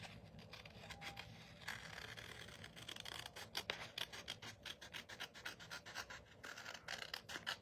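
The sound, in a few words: paper snips cutting around a paper envelope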